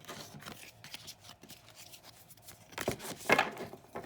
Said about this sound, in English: I'm going to riffle shuffle these